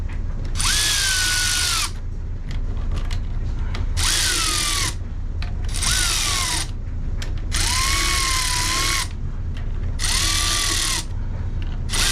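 A ratcheting mechanism runs in repeated bursts, five long whirring, clicking runs separated by short pauses, loud and close, with no speech.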